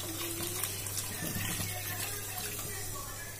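Water is poured steadily into a pot of rice for mint biryani, a continuous rushing, splashing flow at close range.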